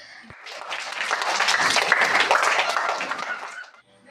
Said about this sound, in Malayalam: കൈയടിക്കാൻ സമയമായെന്ന് അവർക്കറിയായിരുന്നു കേട്ടോ കറക്റ്റ് സ്പോട്ടിൽ അവർ കൈ ഓടിച്ചു